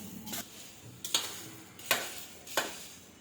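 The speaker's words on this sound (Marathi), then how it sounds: "आता आपण हे सर्व मिश्रण एकत्र करून घेऊया जेणेकरून आपले सर्व कुरमुऱ्यांना येल्लो रंग येईल" Puffed rice chivda mixture stirred in a pan, with four dry rustling scrapes spaced about a second apart, close and moderately loud, no talking.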